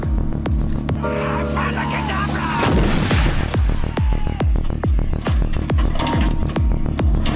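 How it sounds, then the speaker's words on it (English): A mobile 155mm howitzer fires a three-round burst on a firing range, loud booming reports with a throbbing rumble and a steady train of sharp mechanical clicks from the automatic loading system. "The gun will now fire 3 rounds in area diamond."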